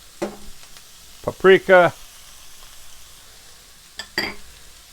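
Ground meat seasoned with chili powder and paprika sizzles steadily while browning in a pan for baked nacho dip, a soft continuous crackle beneath a person speaking between pauses.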